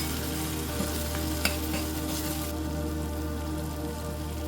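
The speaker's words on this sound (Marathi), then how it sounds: "आता हे मसाले आपण चांगले परतून घेऊया" Spice masala stir-fries in a pan for an Agri Koli-style dried fish (sukat) dish, giving a steady close sizzle with a few scraping stirs and no voices.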